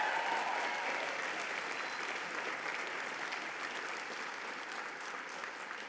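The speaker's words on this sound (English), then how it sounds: "Give Maui another round of applause" Applause from a gala audience at an evening charity event fills the room steadily, a dense, even wash of many hands clapping that fades slightly toward the end, heard at a moderate distance.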